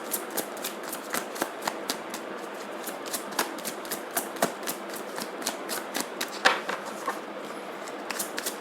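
A deck of tarot cards is shuffled in a steady run of crisp riffling flicks that repeat rapidly and evenly, up close and fairly loud, with no talking over it.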